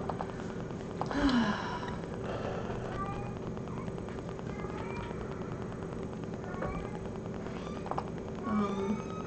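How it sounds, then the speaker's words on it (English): A small foster kitten meows a few times from a pen, thin and high, against a steady low background hum; the cries are brief and fairly faint. "The one who's meowing in the pen is Wesley."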